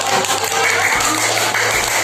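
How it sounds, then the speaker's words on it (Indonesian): A classroom of students applauds after a group presentation, a dense, continuous round of clapping close by with a low hum underneath and some murmuring voices mixed in. "Tepuk tangan dan pemosol."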